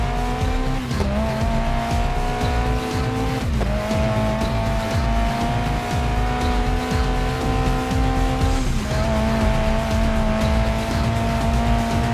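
A race car in the Xbox game Grid Legends roars steadily at high revs, its engine note dipping briefly at gear shifts as tires squeal through a handbrake slide in a corner, loud and continuous.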